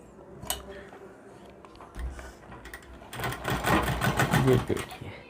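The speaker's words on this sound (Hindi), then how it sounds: "उसके बाद हमने यहाँ से सिलाई चलानी है।" A sewing machine stitching puff sleeve fabric runs in a loud, steady burst over the final two seconds, preceded by quieter handling clicks and a low thump.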